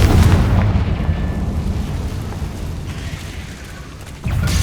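A Confringo blast spell explodes in Hogwarts Legacy, a loud low booming burst that rumbles on for several seconds before a second heavy impact hits near the end.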